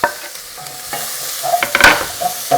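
Tomatoes drop into a pan of sizzling onions, ginger and garlic for a zucchini kofta curry, giving a loud hiss and frying crackle with stirring scrapes, close and alone.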